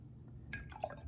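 Plain water poured into a tall container already holding oil gives a faint, brief trickle with a few small drips and splashes, close by and quiet.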